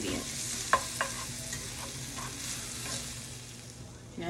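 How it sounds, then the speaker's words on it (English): Onions and peppers sizzle in a pan for rasta pasta as a utensil stirs them, a couple of sharp clinks early on over a steady, moderate frying hiss. "I'm gonna give it a stir and start to marry"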